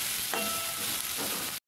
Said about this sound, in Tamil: இதே லைட்டை எண்ணெயில் வதக்கி விடலாம்.